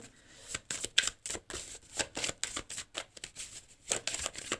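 Tarot cards being shuffled and one drawn: a run of crisp, papery riffles and flicks in irregular bursts, close and fairly quiet, with no voice over them.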